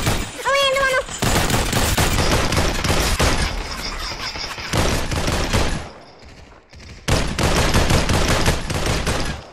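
Rapid bursts of automatic gunfire in the VR battle royale game Population One, loud and close, firing in several long volleys with brief gaps and a high electronic chime at the start.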